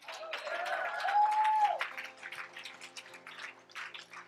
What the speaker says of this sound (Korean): 박수가 왜 이래?